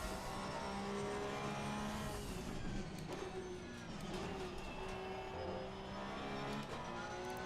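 Porsche 911 GT3 Cup 992 race car in Assetto Corsa Competizione at Circuit of the Americas, engine droning steadily at high revs with shifting pitch and some tire noise.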